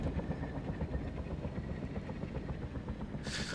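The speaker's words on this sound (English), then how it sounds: "you crash a helicopter" A helicopter in the video game Arma with a failed engine goes down. A steady, loud rotor and engine drone fills the clip, ending in a short bright burst.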